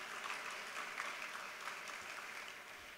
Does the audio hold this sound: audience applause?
yes